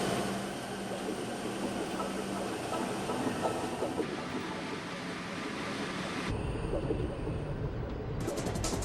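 Maglev train running with a continuous rushing, hissing roar, loud and steady throughout with abrupt shifts in tone, no voices.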